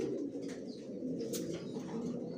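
Baby Johnson Maxi racer homing pigeons coo softly in a loft amid a steady low hum of ambient noise, with faint rustles and brief wing movements and no voices.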